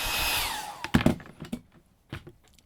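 A hair dryer blows briefly over watercolour paint and its whine drops as it shuts off, followed by several sharp clicks and knocks of handling at close range.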